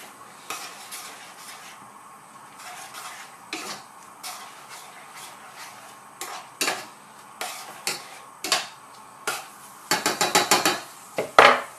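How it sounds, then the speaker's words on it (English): A utensil stirs Thai green coconut curry with chopped coriander and basil in a pot, starting as soft scraping and building to repeated sharp clinks against the metal, quickening into a rapid rattling flurry near the end. "In it goes. Quick stir."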